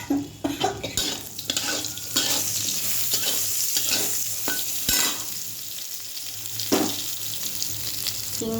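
Eggplant pieces fry noisily in oil in a pan, a continuous close sizzle broken by irregular spatula scrapes and clinks, with no voices.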